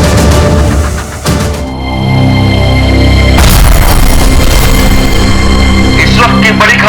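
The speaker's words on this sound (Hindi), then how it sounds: "छत्तीसगढ़ के डीजीपी की कार में हुआ धमाका।" Car bomb blast in the Chhattisgarh police chief's car: two heavy, loud booms, the second followed by a sustained rumbling roar, with voices mixed in.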